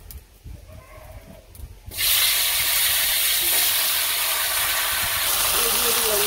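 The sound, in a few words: stems, potato and eggplant curry sizzling in pan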